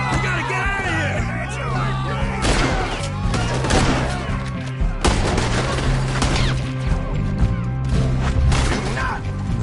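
A chaotic shootout in the video game Red Dead Redemption 2, with bursts of loud gunshots and crashing impacts scattered across the scene while shouting voices and in-game dialogue carry over the firing.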